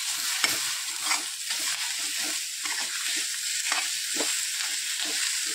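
Eggplant bharit with fresh coriander stirred in a hot pan, giving a steady close sizzle with repeated scraping strokes of a spoon against the pan, no voices.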